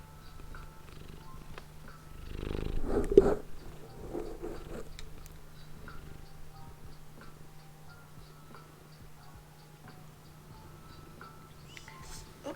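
A purring house cat about eight years old, close by during a spinning session with Tussah silk; a brief low rumbling purr rises for a second or so, then fades into a quiet steady room hum.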